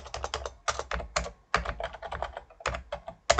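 Fingers typing a MIRROR command on a computer keyboard, a close run of quick clattering keystrokes in bursts with short pauses, ending in a firmer key press.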